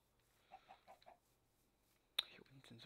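A few soft, clipped clucks from video game chickens, then a sharp click followed by more low clucking sounds, fairly quiet overall.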